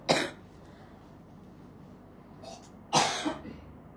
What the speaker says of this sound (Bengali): কাশিটা একদম বেশি বিরক্ত করে ফেলতেছে